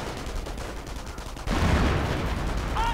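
Artillery and gunfire in a WWII real-time strategy game: a dense rattle of distant shots, then a sudden heavier barrage that keeps rumbling loudly to the end, with no voices.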